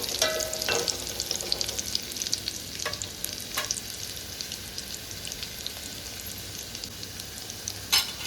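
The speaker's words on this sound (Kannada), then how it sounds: "ಅದು ಮೆಣಸಿನ್ಕಾಯಿ ಬೆಳ್ಳುಳ್ಳಿ ಎರಡು ಫ್ರೈ ಆಗ್ಬೇಕು ರೀ." Green chilies and garlic fry in oil with a steady crackling sizzle, broken by a few sharp stirring clatters against the pan, heard up close with no talking.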